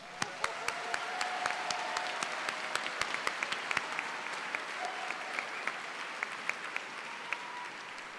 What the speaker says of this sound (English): Let's give these PSC graduates a round of applause.